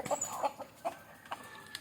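Country chickens cluck softly nearby in short, irregular bursts over a quiet background.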